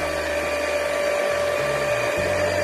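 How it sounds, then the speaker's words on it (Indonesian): An electric hand mixer on its lowest speed beats batter for pineapple bread, giving a continuous, even motor whine with a steady hum that carries throughout without pause. "Kemudian kita mixer dengan gigi yang paling rendah ya."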